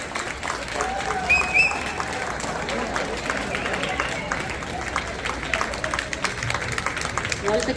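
An audience applauds the first graduate of a Tamil school in Dayton in 2024, steady moderate clapping from a gathered crowd with faint voices mixed in throughout.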